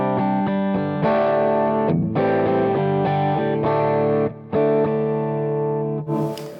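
Electric guitar played through overdrive with the volume knob at 10 and the pickup in coil-tap mode, giving a lighter Texas blues tone: sustained distorted chords and notes ring out in several phrases with short gaps, close and loud, no talking.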